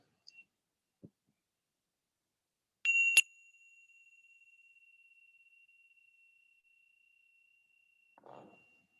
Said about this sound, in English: And listening to the sound of the bell.